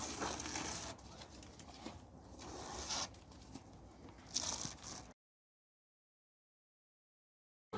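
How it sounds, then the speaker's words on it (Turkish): Tape being pulled off an Opel Astra H headlight in several crackling, zipper-like rips for a few seconds, close by, followed by silence. "şimdi bantlarımızı söküyoruz"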